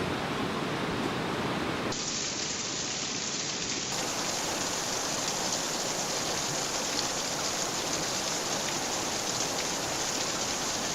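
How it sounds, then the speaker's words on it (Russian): The waterfall in the Saltinsky gorge in Dagestan, a loud, continuous broadband rush of falling water that stays steady throughout with no voices. "Водопад Салтинской теснины подтверждает это своим великолепием."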